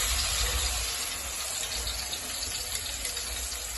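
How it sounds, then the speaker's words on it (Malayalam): Tamarind water is poured into a cooking pan in a steady, gushing splash that continues evenly for a few seconds, with no talking. "നമ്മളെ പുളിവെള്ളം ഉണ്ടല്ലോ, അത് ഇതിലേക്ക് ഒഴിക്കാം"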